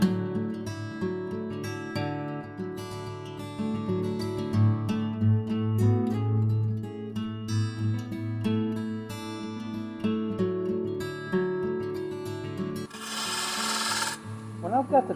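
A wood lathe spins at about 1100 RPM as a bowl gouge shapes a Christmas ornament, a steady motor hum under scraping, rasping cuts, with a brief harsher burst near the end.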